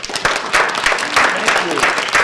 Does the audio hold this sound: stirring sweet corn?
no